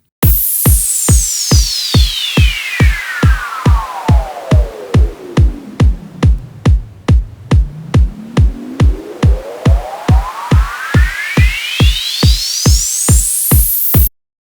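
Filtered white noise, shaped in the Filterverse plugin, pulses in rapid rhythmic bursts while a resonant filter sweep glides down from a bright hiss to a low whoosh and then back up again, loud and close throughout.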